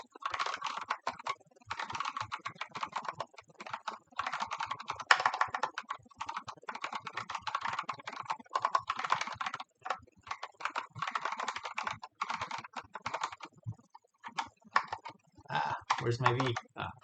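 Typing on a split computer keyboard, rapid close clicking keystrokes in steady bursts with short pauses, going on for the whole stretch, with someone talking now and then.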